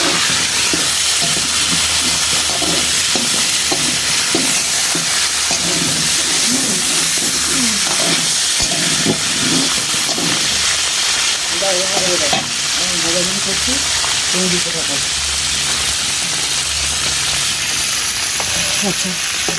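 Wet cauliflower fries loudly in hot oil on a stove, a dense, continuous crackling sizzle with spitting, and muffled voices talking faintly beneath it throughout.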